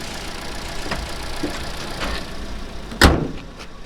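A single solid thud of a Lacetti Premiere 1.8 door shutting, followed by muffled near-silence inside the car with a faint low hum from outside.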